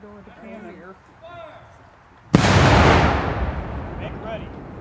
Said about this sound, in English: Here we go with the cannon.